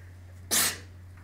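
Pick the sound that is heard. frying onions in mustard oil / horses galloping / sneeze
sneeze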